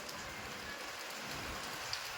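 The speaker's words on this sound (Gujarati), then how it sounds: "જબરજસ્ત વરસાદ તો ચાલુ હોય બરોબર વરસાદ તો ખતરનાક ચાલુ જ છે" Heavy rain pours steadily in a dense, even hiss, with no voices.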